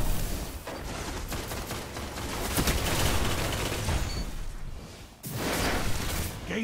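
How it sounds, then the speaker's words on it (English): Video game gunfire rattles in dense, continuous bursts, loud and close, swelling through the middle before a brief drop and a sharp resumption. "Let me shoot him again."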